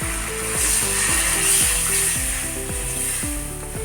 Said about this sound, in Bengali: আলুটা একটু নাড়াচাড়া করে জল দিয়ে দেবো